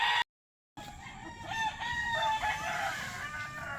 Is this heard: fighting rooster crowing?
yes